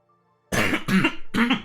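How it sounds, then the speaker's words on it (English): Three harsh coughs from a man in quick succession, close and loud after a brief near-silent pause, with no talking. "You'll have to pardon my coughing"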